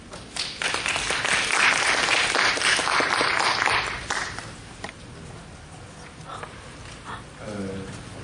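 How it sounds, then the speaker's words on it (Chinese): At a green energy conference session on Taiwan's wind power, an audience bursts into loud clapping for about four seconds to welcome the next speaker, then it fades into a quieter room with scattered noises. "掌声欢迎。"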